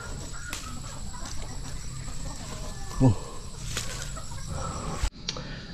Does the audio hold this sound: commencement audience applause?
no